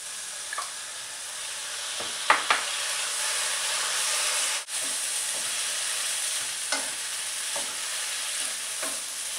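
Tomatoes tumble into a hot pan of cooked-down greens, setting off a steady broadband sizzle with a few sharp clinks and stirring scrapes, close and loud throughout.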